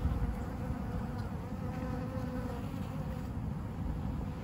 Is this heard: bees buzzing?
yes